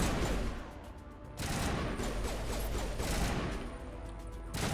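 Sustained gunfire from a Mass Effect Legendary Edition firefight on Insanity difficulty, dense rapid shots rolling continuously with a brief lull partway, fairly loud and with no talking over it.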